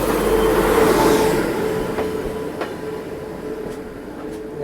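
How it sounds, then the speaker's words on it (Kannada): Prashanti Express train passing close by on its Bhubaneswar to Bengaluru route, a loud steady rumble of rolling wagons with a few sharp rail clicks, no talk. "ಪ್ರಶಾಂತಿ ಎಕ್ಸ್ಪ್ರೆಸ್ ಭುವನೇಶ್ವರ ಬೆಂಗಳೂರು"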